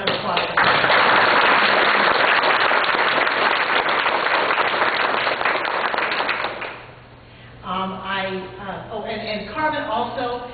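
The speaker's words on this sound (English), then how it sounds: "I want a round of applause for her" A room of listeners claps loudly for a former district representative during a speech, the dense applause running for about seven seconds before fading out as a voice resumes talking.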